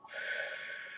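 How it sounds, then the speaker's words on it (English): A single deep, breathy inhalation, close and airy, drawn steadily for about a second during a calm guided breathing exercise. "we will close out the reading with 4 deep breaths"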